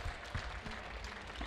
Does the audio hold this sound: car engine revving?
no